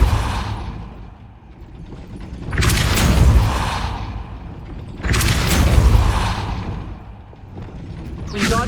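The Depulso spell in the video game Hogwarts Legacy sets off deep rumbling booms and mechanical grinding in two heavy surges over a steady low background, with one more swell starting at the end.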